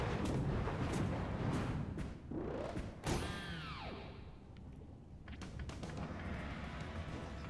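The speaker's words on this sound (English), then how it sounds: "evade the seeker bullet bills" Seeker bullet bills firing in Super Mario Bros. Wonder: heavy booming launches and thuds over busy game music, with a loud whooshing blast near the middle before the racket settles back into steady background clatter.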